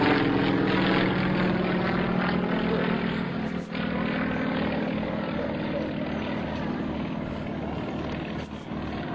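An aerobatic airplane drones steadily during an airshow performance at Cold Lake. The engine roar holds fairly loud and constant through inverted and looping manoeuvres, with slight dips in level.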